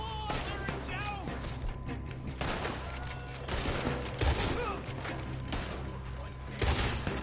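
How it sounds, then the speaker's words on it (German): Scattered gunshots and volleys in a Western-era shootout in a Red Dead Redemption 2 game, irregular bangs at middle distance layered with game sounds and occasional voices. "Why are they all shooting at me?"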